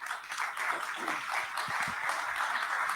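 Soft, scattered applause from an audience at a public gathering, steady and somewhat distant, with low voices and rumble underneath.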